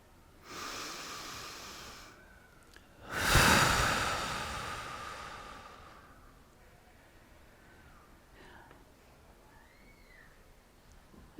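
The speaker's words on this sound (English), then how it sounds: "Take a deep breath in. And on a full exhale, release" A group takes a long deep breath in together at a festival gathering, then exhales audibly in one loud, breathy rush that slowly fades into quiet room noise.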